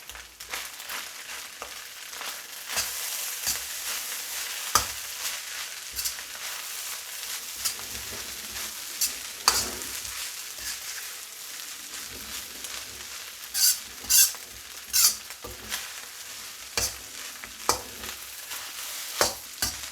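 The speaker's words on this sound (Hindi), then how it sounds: "माशाल्लाह हमारे चावल बहुत ही ज़बरदस्त फ्राई हो रहे हैं" Korean-style fried rice with finely chopped cabbage fries in a pan, a steady close sizzle broken by repeated scraping and stirring strokes and clacks of the utensil, with no talking.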